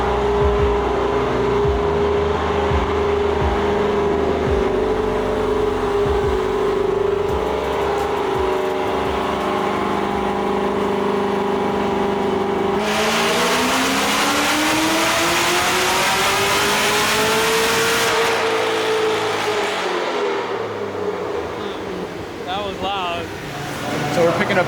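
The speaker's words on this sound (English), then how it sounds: "Sounds like Brad's tuning a car right now" A car engine revs repeatedly during tuning at a performance shop, a loud steady drone with rising and falling pitch that swells into a big rev near the middle, then drops back, with shop noise around it.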